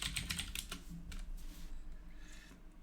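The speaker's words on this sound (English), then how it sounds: "I can't type" Rapid bursts of computer keyboard typing, close and fairly loud, with clustered clicks that slow and fade toward the end; no one speaks.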